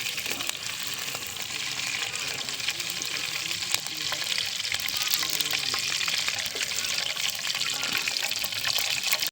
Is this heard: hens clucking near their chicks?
no